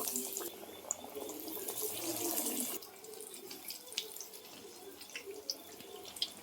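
Banana flower chops drop into hot oil and fry. A loud, dense sizzling hiss softens after about three seconds into a gentler sizzle broken by scattered sharp pops.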